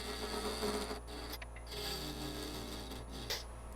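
A wood lathe spins a box elder burl at about 1,000 rpm while a half-inch bowl gouge rounds and tapers it, giving a steady close scraping, rasping cut over a constant motor hum, with no talk.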